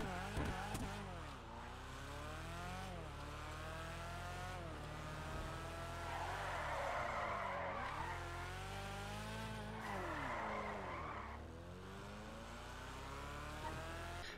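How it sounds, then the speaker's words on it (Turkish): A Mercedes in GTA Online drifts at length, its engine droning and rising in pitch as the revs swing, with long bursts of tire squeal and skidding through the middle. "Mercedes arabası güzel bir drift yapıyor arkadaşlar."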